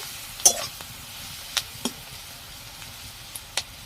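Onions fry in a pan with turmeric powder, a faint low sizzle broken by a few sharp spoon scrapes and taps at irregular intervals, close and quiet.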